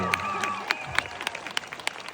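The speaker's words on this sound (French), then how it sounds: "Un tonnerre d'applaudissements" A small audience claps after a dance performance, with distinct individual claps landing in a loose rhythm under overlapping voices and a few excited calls.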